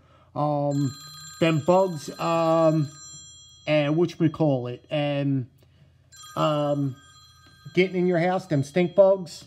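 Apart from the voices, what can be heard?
mobile phone ringing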